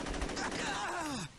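In the Saints Row video game, a short burst of gunfire rattles out, with a voice talking over it.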